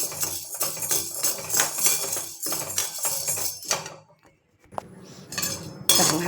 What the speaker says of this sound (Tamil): இப்போ இந்த கடலைப்பருப்பை வறுத்துக்கலாம். நல்லா செவக்காக வறுக்கணும். எண்ணெய் விடாமல் தான் செவக்காக வறுக்கணும்.